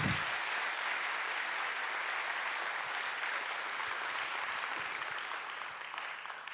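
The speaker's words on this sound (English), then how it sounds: "a huge round of applause for Jeff Skoll" Sustained applause from a large audience at the Skoll World Forum closing plenary, honoring Jeff Skoll, dense and continuous throughout and easing slightly toward the end, with no talking over it.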